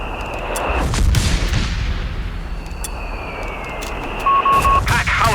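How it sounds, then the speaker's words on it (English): Artillery fire in the video game Company of Heroes 3: heavy booms and a long whistling rumble roll across a busy 4v4 battle, with shouted soldier voices mixed in. "Indirect fire! Look out!"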